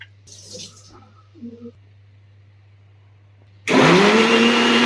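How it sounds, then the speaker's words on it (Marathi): A mixer grinder starts up on cooled spinach and tomato after a quiet stretch with faint handling sounds, its motor whining loud and steady as it blends. "आपण याला आता मिक्सरमध्ये बारीक करून घेऊया"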